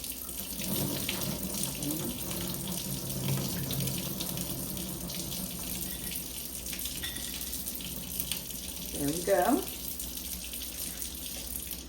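Tap water runs steadily into a kitchen sink as kidney beans are rinsed, a continuous splashing hiss with a brief louder gush near the end and a short spoken remark over it.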